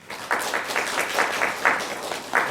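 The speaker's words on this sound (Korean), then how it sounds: "우리 목사님 나오실 때 박수로 환영해 주시기 바랍니다" A church congregation at an afternoon service claps to welcome the pastor, steady moderately loud applause running the whole time with a faintly rhythmic pulse.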